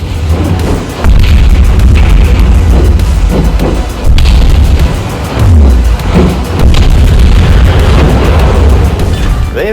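Secondary guns of the German tier 7 battlecruiser Prinz Heinrich firing in World of Warships, loud repeated booms rolling into one another over a dense, continuous low rumble of naval combat, with no talking.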